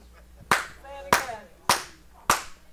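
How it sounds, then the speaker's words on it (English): Four sharp, evenly spaced claps ring out at a Sunday morning worship service, each a loud isolated crack with a short room echo and quiet pauses between. "Clap on, clap off."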